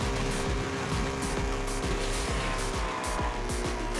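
A Ford Shelby Super Snake muscle car drifts in the racing game Asphalt Legends Unite, its engine roaring steadily and close up with repeated gear-shift surges, while a tire squeal blends into the roar.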